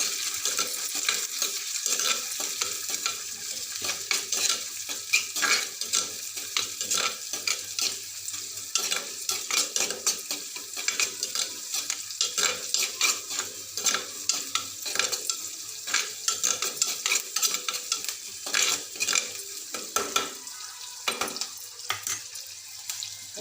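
Chopped onions sauté with salt in a pan for a tomato kulambu, a steady dense crackling sizzle with continuous scraping stirs, close and fairly loud.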